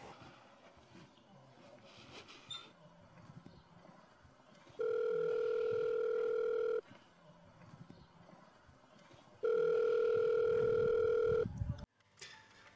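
A telephone dial tone sounds while a call is being placed, in two steady, loud bursts of about two seconds each, separated by quieter background noise.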